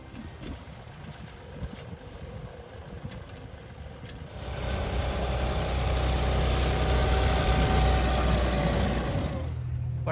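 A tractor engine runs on an Indian farm, a steady low rumble that swells louder about halfway through and holds at a close, constant idle-like drone.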